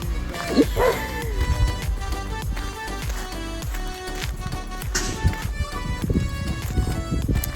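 A dog at a day camp barks and yips repeatedly against a busy background of music and people talking, with sharp, close barks breaking through at irregular intervals.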